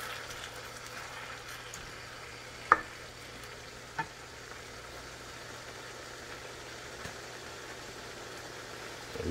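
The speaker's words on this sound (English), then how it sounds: "You hear that sizzle?" Beef and broccoli sizzle in a hot wok with a steady, even hiss, broken by a couple of sharp utensil clicks and no talking.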